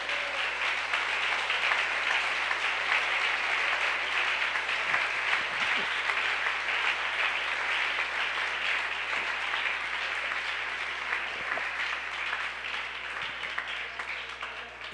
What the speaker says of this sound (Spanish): Aplauso al Señor Jesús.